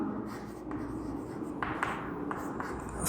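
Names are written with a pen or marker, giving a soft, scratchy stroking sound in several short bursts, close and quiet, with faint background noise.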